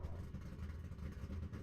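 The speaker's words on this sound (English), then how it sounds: "Listen to that truck." Steady low engine drone of a racing truck in the iRacing sim during an ISRA Truck Series race at Michigan, faint and continuous with no clear revs or shifts.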